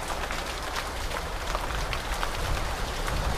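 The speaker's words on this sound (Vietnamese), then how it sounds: "Đây nó hơi mưa." Rain falls steadily over a bonsai garden, a soft, even wash of pattering drops that stays constant throughout with no voices.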